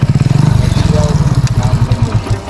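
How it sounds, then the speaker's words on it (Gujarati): A motorcycle engine thumps loudly and close by at a marigold farm, its rapid putter slowing and loosening as the bike idles down after pulling up. "બાઇક લઈને આવી ગયો"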